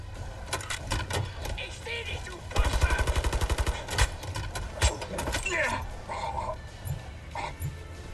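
Gunfire from a first-person shooter, Wolfenstein: The New Order, with scattered single shots, then a rapid automatic burst of evenly spaced cracks midway and more sporadic shots afterward, loud against game noise with occasional talk.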